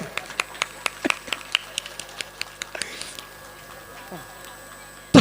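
Sparse, scattered hand claps from an audience at a Hindu religious discourse, a dozen or so distinct claps in an irregular rhythm, fading into quiet room tone with a faint voice near the end.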